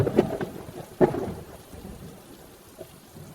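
Cartoon storm: steady rain patters throughout while two sharp thunder cracks strike early, one after the other, then rumble off into the downpour.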